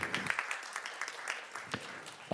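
Scattered, thinning applause from a small audience at an academic contest award ceremony, a few claps and faint voices trailing off before a sharp louder burst at the end.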